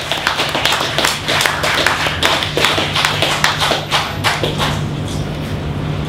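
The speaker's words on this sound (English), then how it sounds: "Please give him a huge round of applause." Loud audience applause with sharp individual claps standing out near the front, the clapping thinning and fading toward the end.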